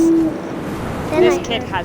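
An owl hoots in the video game What Remains of Edith Finch, two short low hoots separated by a pause, fairly loud over a soft ambient background.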